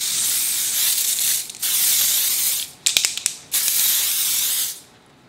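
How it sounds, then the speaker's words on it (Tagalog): A Dior Air Flash Radiance Mist airbrush foundation sprays in several long, close hissing bursts, with a quick run of short sputtering puffs between them, and no talking. "Itong Dior na Air Flash Radiance Mist. Sana maganda yung spray niya."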